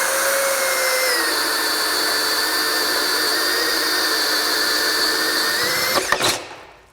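Metabo HPT DV18DEX 18V hammer drill on a 2 amp hour battery in low gear, driving a 1 1/4 inch bore bit with a steady high whine that runs for several seconds, then sputters and cuts off near the end.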